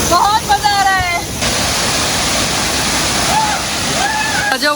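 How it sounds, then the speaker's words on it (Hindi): Rainbow Falls near the Double Decker Root Bridge roars as a loud, steady rush of falling water, close by, with people talking over it. "अजब वाटरफॉल है और बहुत गहरा नहीं है, आराम से आ सकते हैं यहाँ पे। पानी का फोर्स बहुत है"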